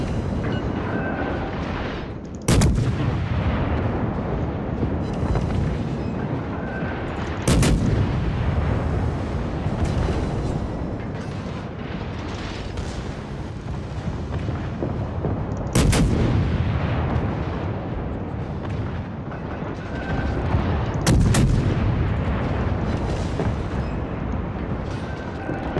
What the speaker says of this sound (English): Now we're just pounding him with bullets.